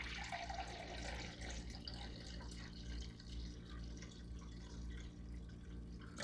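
Cranberry juice pours quietly into a measuring cup, a soft, steady liquid trickle and splash heard close but faint for several seconds with no talking.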